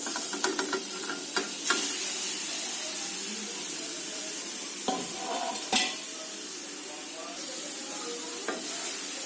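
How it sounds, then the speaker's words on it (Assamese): A steady soft sizzle of grated coconut frying in a dry kadai, with a few sharp scrapes and taps from stirring. "এতিয়া এনেকৈ লাহে লাহে মই অলপ সময়ৰ কাৰণে ভাজি থাকিম।"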